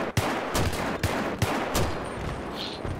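Gunfire in the Battlefield 3 video game: a rapid string of sharp, loud shots, about seven bursts in three seconds, close and dense with no talking.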